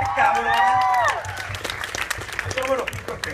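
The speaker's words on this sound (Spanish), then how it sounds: "¡Aplausos, por favor!" An audience at a web festival in Baja applauds in a dense burst of claps, with loud voices shouting over the start before the clapping carries on alone.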